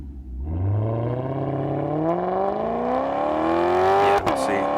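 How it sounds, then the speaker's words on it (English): A Maserati GranTurismo MC engine, played back from a recording, revs up in one long, loud climb toward about 7,500 rpm, its pitch rising steadily before a brief break and a held high note. "like hearing the sound of this engine"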